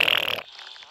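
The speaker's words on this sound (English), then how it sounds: "farting chili beans." In Plants vs Zombies 2, the chili bean plant lets out a short, loud, raspy fart that cuts off abruptly and leaves a faint tail.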